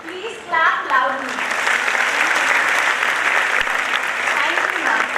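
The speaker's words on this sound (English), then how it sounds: "Please clap loudly." Loud audience clapping at a university orientation programme as a memento is presented, starting just after a brief spoken announcement and continuing as a dense, even roar of hands.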